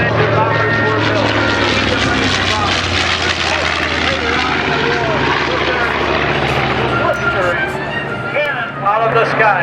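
Vintage twin-engine World War II-era bomber flying at an air show, a loud steady propeller drone filling the whole stretch, with crowd noise and announcer talk running over it.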